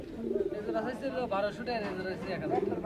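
Pigeons cooing in cages at the Saruliya pigeon market in Bangladesh, soft repeated coos close by, mixed with market chatter, and people talk over them.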